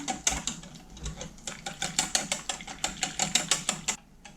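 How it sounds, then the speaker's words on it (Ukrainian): A utensil scrapes and clinks rhythmically against a bowl as pancake batter is stirred, quick regular strokes, close and unaccompanied. "Все знову ретельно перемішую."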